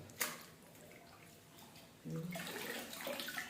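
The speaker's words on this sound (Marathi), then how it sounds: "मेथीची भाजी ही 3 वेळेस पाण्यामध्ये, भरपूर पाण्यामध्ये स्वच्छ धुवून घ्यायची" Quiet water sounds with a brief splash near the start, then louder sloshing and swishing of water as fenugreek leaves are washed in plenty of water, close by.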